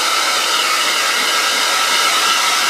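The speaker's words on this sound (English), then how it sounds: "Now this is where it's going to get noisy, because armed with my trusty hairdryer" A handheld hair dryer blows on a wet mixed-media art project, giving a loud, constant close-up whoosh and motor whine that runs without a break and with no voices.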